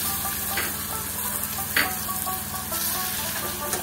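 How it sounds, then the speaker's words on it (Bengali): Chopped garlic frying in hot oil left from frying fish gives a dense, continuous sizzle up close, with a few brighter spits and stirring clinks breaking through. "আর এর ভিতরে দিয়ে দেব কুচি করা রসুনগুলো।"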